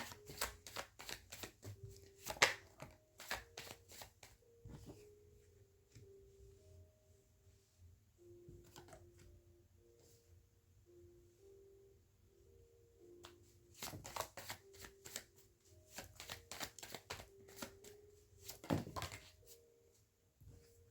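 Tarot cards are shuffled by hand in quick bursts of riffling and tapping, close and fairly quiet, with pauses between rounds and a few soft knocks.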